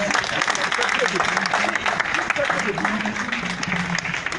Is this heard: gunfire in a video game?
no